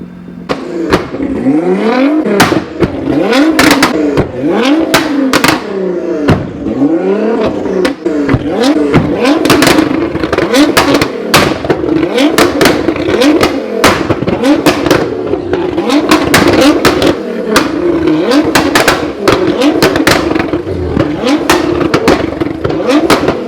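A Nissan GT-R engine revs repeatedly while shooting five-foot flames, each blip ending in sharp cracking backfire pops, loud and close in rapid irregular bursts, with occasional voices underneath.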